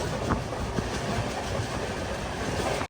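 Inside an express sleeper train approaching Gondia Junction, a steady loud rumble of wheels on rails carries faint rhythmic clacks throughout, ending abruptly.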